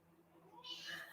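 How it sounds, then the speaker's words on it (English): A cat gives a loud, drawn-out angry meow, rising out of a quieter background murmur and holding for about half a second. "It's angry meows."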